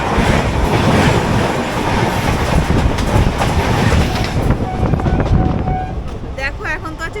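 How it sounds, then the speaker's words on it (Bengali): Paharia Express passenger train running on rails out of Howrah, with steady loud rumble and rhythmic clickety-clack of wheels throughout, a brief squeal late on and a voice talking over the noise near the end. "দেখো আমাদের ট্রেন কিন্তু ছেড়ে দিয়েছে, আর আমরা আজকে জার্নি করছি পাহাড়িয়া এক্সপ্রেসে।"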